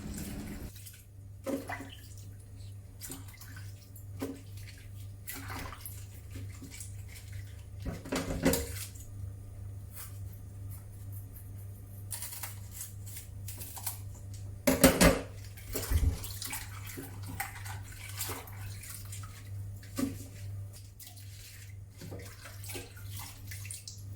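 Bok choy washed by hand in water at a kitchen sink: quiet sloshing and splashing with scattered clinks and a few louder splashes, over a low steady hum, no talking.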